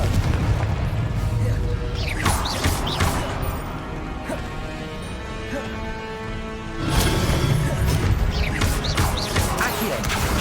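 Confringo spell blasts in Hogwarts Legacy burst repeatedly during a chaotic duel, dense booming impacts and crackling magic layered over continuous combat noise.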